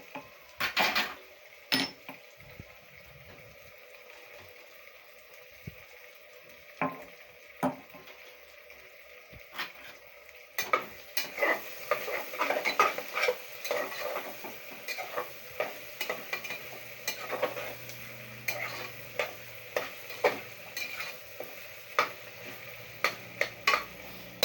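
Garlic ginger paste added to a frying pan and stirred in, a spatula scraping and clinking against the metal over a faint sizzle, sparse at first and then busier and steadier, with no talking.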